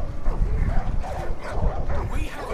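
Dogs bark and yip in the Far Cry 5 video game, a dense mix of short barks running through the whole stretch amid other game sounds.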